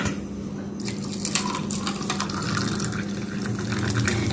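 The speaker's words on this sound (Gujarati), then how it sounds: "મિક્સ કરી અને પછી આપણે તેમાં સોડા નાખશું" Soda fizzing as it pours into a glass of mint masala mojito mixed with jaljeera, cumin, black salt, mint and lemon, a steady close hiss of liquid and bubbles with no talking.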